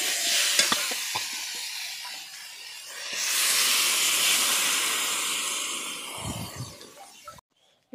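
Water poured into a simmering curry in a home kitchen sets off a loud, hissing sizzle that swells midway, holds for several seconds, then dies away with a few bubbling bursts before cutting off.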